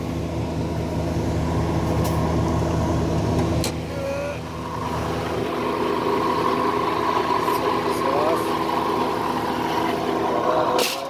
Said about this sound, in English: Alright, we got a noisy ass supercharger.